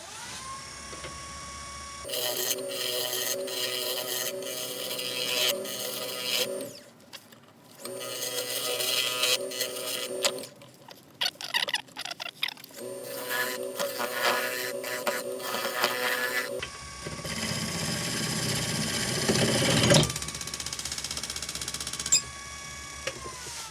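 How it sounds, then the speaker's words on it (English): A gouge cuts into a yew wood mallet head spinning on a lathe, giving a steady mechanical whine with scraping passes in several long stretches, broken by brief pauses. "if I theoretically keep on working along that line with my gouge, I will create the same shape on the mallet head"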